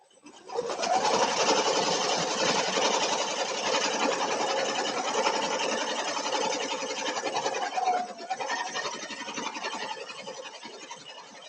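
An embroidery machine stitching tags runs loud and close in a steady, dense mechanical whir. It keeps an even rapid rhythm that eases slightly near the end.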